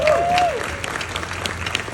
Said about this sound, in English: I think you give a round of applause to it.